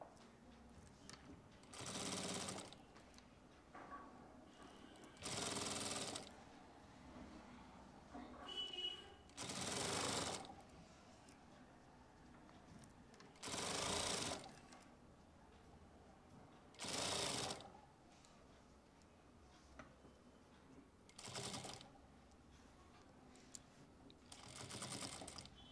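Sewing machine stitching a zip onto bell-bottom pants, running in about seven short bursts of a second or so each, separated by quieter pauses with faint handling noise between runs.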